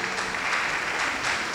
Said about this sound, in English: Another round of applause for Professor